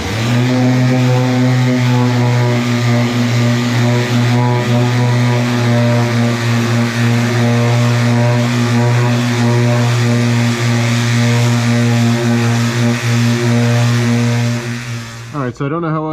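A power sander works the paint on a crew cab squarebody Chevy truck body, giving a loud, steady humming whine that holds unbroken for about fifteen seconds before cutting off at the end.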